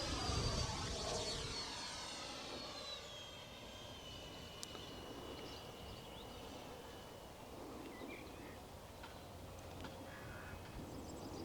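A QT T45 Goshawk electric ducted fan model jet on a 6S battery lines up for landing, its steady whooshing whine fairly faint and distant, holding a constant drone across the whole stretch.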